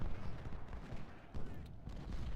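Ultimate General: Civil War cannon fire thunders in repeated low blasts with brief lulls between them, a steady battlefield barrage at moderate volume, no talking.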